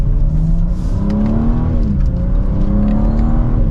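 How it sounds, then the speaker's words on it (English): A 2025 BMW M4 Competition xDrive accelerating, its engine droning loud and steady with the pitch rising through a gear, heard close from inside the cabin, with no speech. "We'll do another acceleration."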